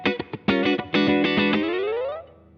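Distorted electric guitar on a song part: a few short plucked notes, then sustained chords ending in a smooth upward slide that fades out, alone.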